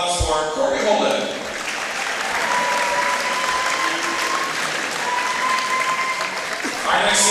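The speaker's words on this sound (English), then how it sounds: "Please give a big round of applause for Corey Holden." Sustained applause from a crowd at a high school wrestling senior-night tri-match in a gym, a steady dense roar of clapping with a faint announcer tone running underneath throughout.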